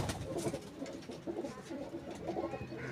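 Ablook pigeons at a breeder's loft coo repeatedly in low, throaty phrases, close and fairly clear, with several birds overlapping and no voices.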